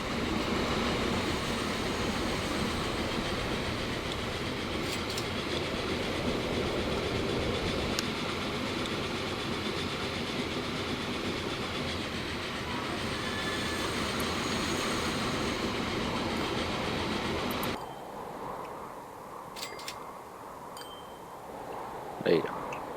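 Train rolling along rails in the Transport Fever 2 game, a steady rumbling drone with faint clatter that runs continuously for most of the span, then drops away sharply near the end.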